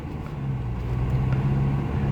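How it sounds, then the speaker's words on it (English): A car approaches and passes on a Johannesburg road, a steady low engine rumble and tire roar that swells slightly, heard from inside a moving vehicle with no talking. "As you can see, here comes a car."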